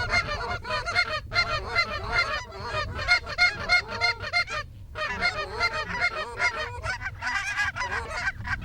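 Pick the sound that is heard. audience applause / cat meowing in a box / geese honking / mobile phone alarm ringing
geese honking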